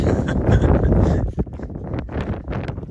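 Strong wind buffeting the microphone with a low, continuous roar that dips briefly, then gusts back up.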